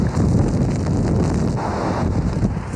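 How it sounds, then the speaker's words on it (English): Strong hurricane wind from a storm with sustained winds near 80 miles an hour buffets the microphone in a loud, continuous roar, with surf-like rushing underneath and no voices. "With maximum sustained winds near 80 miles an hour and gusts even higher"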